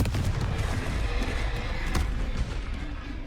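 A Confringo blasting spell explodes in Hogwarts Legacy, a loud, dense rumble of booming blasts with a sharper crack near the middle, sustained throughout without voices.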